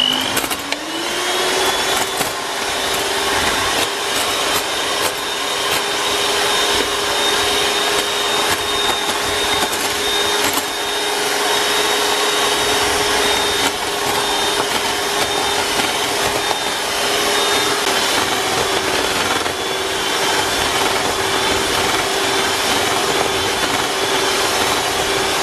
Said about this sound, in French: on va mélanger les jaunes d'œufs avec le sucre que je vais rajouter petit à petit.